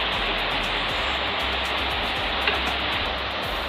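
Liquid drained off chopped banana flower pours in a steady close rushing stream, continuous and fairly loud, with no voices.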